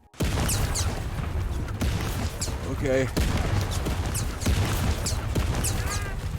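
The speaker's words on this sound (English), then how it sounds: "the sound design and the explosion effects just had me running for cover" Explosions and gunfire from the Zero Caliber VR shooter game form a dense, continuous barrage of booms and shots, with a person speaking briefly over the din.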